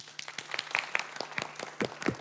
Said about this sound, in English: Applause for yourself, please.